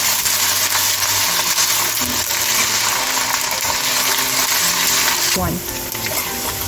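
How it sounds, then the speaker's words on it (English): Ginger and garlic sautéing in a pan for a spicy chicken potato curry: a loud, steady frying sizzle close by, with stirring scrapes and a brief metallic clatter near the end. "let me add the ginger garlic, and now I'm going to saute it until mix blends well"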